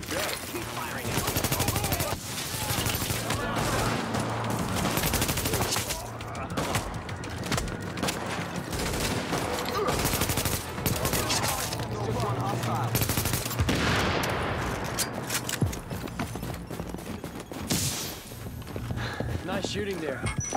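Gunfire in the video game The Division: repeated bursts and scattered shots go off throughout a street firefight, loud and dense, mixed with voices talking.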